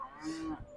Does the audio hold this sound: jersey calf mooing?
yes